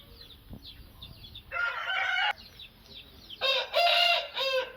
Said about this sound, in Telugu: ఇక్కడ నాటుపెట్ట కూడా ఉంది కదా